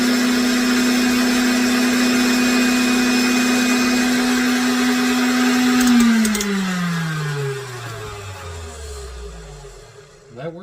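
KitchenAid Artisan tilt-head stand mixer running at top speed 10, a loud steady motor whine with a strong hum that holds for about six seconds, then winds down in falling pitch as the motor stops and rattles to rest.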